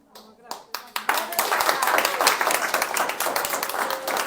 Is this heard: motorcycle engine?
no